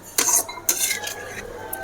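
A metal spoon scrapes and clinks against a pot of prawn curry in a few quick stirring strokes, close by, with quiet pauses between.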